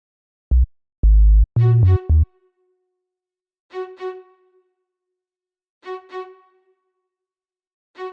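A plucked string-instrument melody sample from an Afro-pop beat production, playing short, bright, separated phrases alone: a few low punchy notes at the start, then clean repeated two-note figures with gaps of silence between them.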